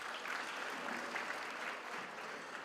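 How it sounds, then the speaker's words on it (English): Steady applause from a graduation audience at a university ceremony, a dense even wash of many hands clapping at a distance with no breaks. "Let's give a round of applause to the leadership."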